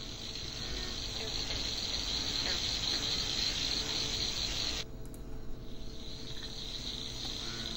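Dense, steady chirping of crickets fills a night bullfrog pond scene, then suddenly drops away, leaving a quieter ambience with faint croaks and rustles.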